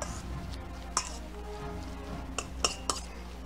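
A utensil lightly mixes a Korean street toast filling with delicate green onions in a bowl, giving a few soft, scattered clinks against a quiet background.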